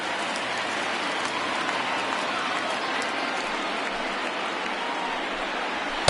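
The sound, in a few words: baseball stadium crowd rising and cheering for a full count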